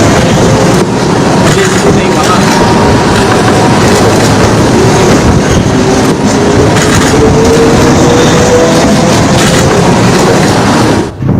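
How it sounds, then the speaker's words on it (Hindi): A train crossing a large bridge at night, a loud continuous roar of wheels and rumbling carriages with a steady clatter throughout, close and dominant. "ट्रेन आप देख रहे हैं उसी पुल से ट्रेन गुजर रही"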